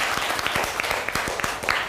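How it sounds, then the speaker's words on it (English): Classroom applause as a group of students claps together, a dense run of overlapping hand claps at steady loudness filling the whole moment, with no speech over it. "Clap everybody for him."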